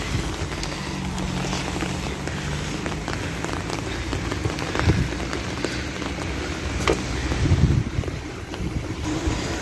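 Steady rain falls and patters on surfaces in Spain, a continuous wash of sound with some wind, no voices.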